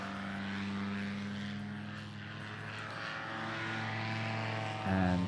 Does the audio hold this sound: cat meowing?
no